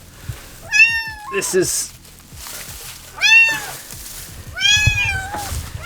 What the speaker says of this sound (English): so now I've got 3 bloody cats